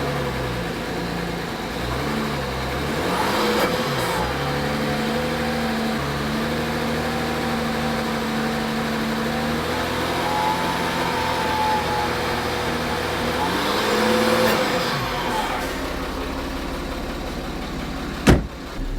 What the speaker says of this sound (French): Je vais faire monter un peu les tours.